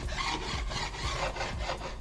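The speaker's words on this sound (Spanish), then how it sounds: "Aquí entramos a pulir un poco, como les digo, con la lima, puede ser con un pedazo de lija." A hand file rasps continuously across the rough routed edges of a piece of wood, producing close, dense scraping strokes with no talking.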